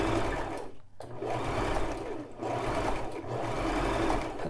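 Brother LX3817 sewing machine running a knit blind hem stitch on fabric, a steady close whirring hum of the motor and needle that continues alone with one brief pause near the start.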